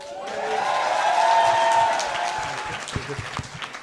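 An audience at the Future Leaders Connect 2019 final selection event claps in a round of applause. The clapping swells quickly, holds, and then tapers off, with a few voices mixed in.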